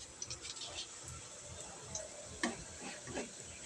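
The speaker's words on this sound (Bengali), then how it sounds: "এখানে বড়াটা ভাজাও স্টার্ট করে দিয়েছি" Cabbage fritters frying in a pan give a faint, steady sizzle with a few soft ticks and scrapes, heard close and on their own.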